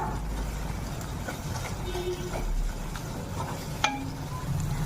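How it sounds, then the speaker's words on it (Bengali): Spiced masala paste with green chilli paste fries in a pan for a Bengali duck-egg curry, giving a low steady sizzle under scattered scraping stir strokes and one sharp clink of a spoon near the end. "কষে নাও মশলাটা"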